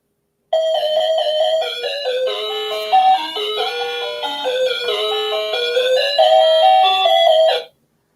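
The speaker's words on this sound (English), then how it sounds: "Maybe you hear bells ringing." A bright chime of bells ringing a melodic sequence of clear tones, loud and close, starting abruptly and cutting off after about seven seconds, alone with no voices.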